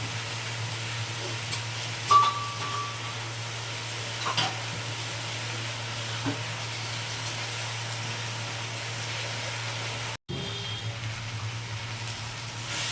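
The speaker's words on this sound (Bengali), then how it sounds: "অল্প অল্প করে গরম জল দেব আর কষাতে থাকবে" A steady, soft sizzle of potato paneer masala being sautéed in a pan, continuous and even, with occasional light scrapes of stirring and a brief dropout near the end.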